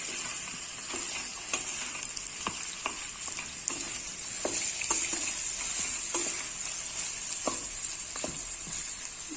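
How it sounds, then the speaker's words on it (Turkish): Onions and meat sauté in a little oil in a pot for a Turkish pea stew, giving a loud, continuous sizzle with scattered crackles and the scrape of stirring, with no voices. "Şimdi soğanı ile şöyle kavuruyorum"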